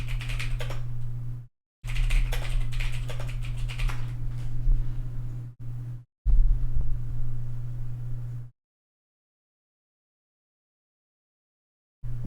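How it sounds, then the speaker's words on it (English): Computer keyboard clacking under rapid, continuous typing, close and loud with a low steady hum underneath, broken by a few brief pauses before falling silent. "What do you guys think of the clacks on my keyboard?"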